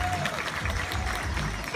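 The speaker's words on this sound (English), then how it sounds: "Another round of applause for the young cats out here." Audience applause at a Six Flags Discovery Kingdom tiger show, a steady wash of clapping from a crowd in the stands, broad and continuous throughout with some faint background voices.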